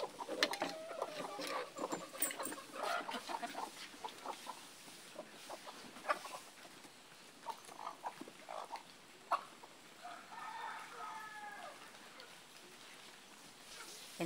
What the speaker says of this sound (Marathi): मोठी कोंबडी आपण सोडली आहे